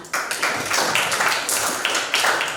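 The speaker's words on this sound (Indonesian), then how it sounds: "Berikan dulu tepuk tangan." Classroom applause during a group discussion in a school lesson: a small, loose burst of hand claps with uneven, overlapping strikes, fairly close and steady for a few seconds with no talking.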